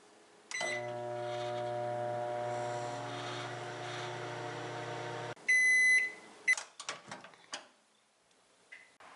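A microwave oven hums steadily for about five seconds while baking an eggless apple mug cake, stops, then beeps and the door clicks open.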